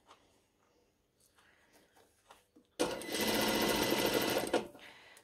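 A sewing machine runs steadily for almost two seconds while topstitching the front and back neckline of a long dress. The loud even whir follows some faint handling sounds and ends abruptly.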